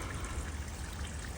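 Water drains out of a pool filter with the pressure gauge removed, a soft continuous gushing trickle running steadily throughout.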